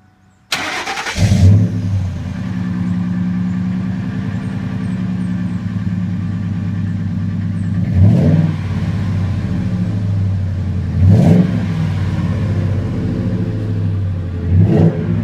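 A 1999 Ford F-650 truck with a Flowmaster dual-tip exhaust and muffler delete fires up, then settles into a loud, steady low rumble broken by three sharp revs near the end, heard up close with no talking.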